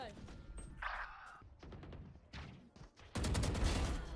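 Gunfire in the video game Valorant, with a short burst of shots and then a loud, dense volley near the end, alongside in-game sounds.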